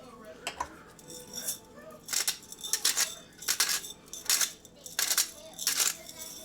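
A hand-held pepper grinder cracks black peppercorns in a quick run of rhythmic crunchy bursts, close and crisp, growing denser and louder as the twisting continues.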